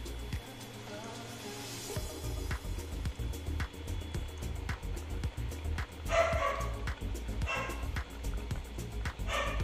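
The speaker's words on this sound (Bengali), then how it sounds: "আমাদের ডগি কি চিৎকার করছে" A dog barks repeatedly in quick bursts, with occasional whimpers and yips, fairly close over a steady low background hum.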